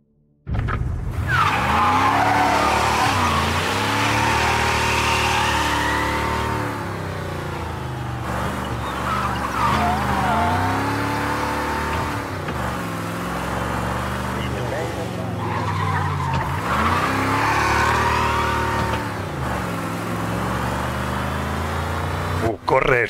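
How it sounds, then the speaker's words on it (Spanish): A car driven fast in Mafia: Definitive Edition, its engine droning steadily with rising and falling revs and repeated tyre squeals on turns, loud and continuous throughout while someone talks over it. "Corre el coche este, ¿eh?"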